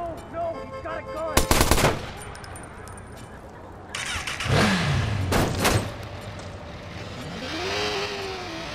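Sharp bursts of gunfire in the video game Watch Dogs, two loud rapid volleys set among revving car engines and game ambience.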